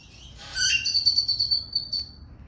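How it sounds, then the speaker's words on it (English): A blackbird calls outdoors with a clear, high, whistled run of rapid repeated notes, moderately loud and close, heard alone over a low background hum. "we have an onlooker blackbird that you just heard there"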